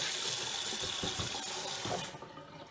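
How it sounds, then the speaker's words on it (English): Running tap water splashes over a pot lid as it is rinsed, a steady hissing gush close by that cuts off near the end, with no talking. "I'm just going to clean the lid so that you can see. I think it's easier underwater."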